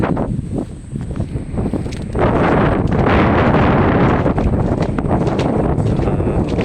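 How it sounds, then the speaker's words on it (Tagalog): Strong wind from Typhoon Opong, without rain, roaring and buffeting the microphone, building louder and staying steady, with no voices. "Hangin lang mga idol, walang kasamang ulan."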